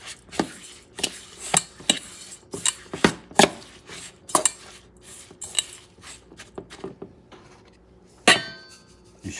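Eggs whisked in a bowl for coconut macaroons, a string of sharp clinks and taps from a utensil against the bowl in an uneven rhythm, close and fairly quiet.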